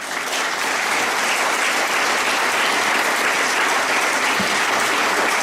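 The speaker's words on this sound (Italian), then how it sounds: "Un applauso a Giovanni Lilliu, per favore." A large audience at a public talk claps steadily and loudly, a dense, even wave of applause that carries on without pause.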